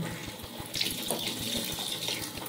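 Tap water runs steadily for washing, a continuous close hiss and splash that grows slightly fuller partway through, with no talking.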